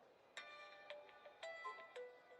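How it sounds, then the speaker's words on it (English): A mobile phone ringtone plays a repeating melodic electronic tone in short bursts, faint and fairly close, with no talk over it. "That's my phone."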